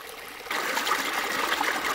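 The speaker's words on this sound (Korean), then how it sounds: "오늘은 물소리를 한번 들어볼까요?" Water trickling and burbling along a small ditch stream, a steady close-up flow of bright splashing that swells suddenly louder after the first half second and then runs on continuously with no voices.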